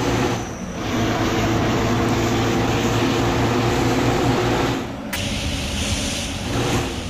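Bus exhaust in the Bus Simulator Indonesia game, a loud continuous low engine drone with rough rumbling texture that dips briefly at the start and again near five seconds before resuming, no talking.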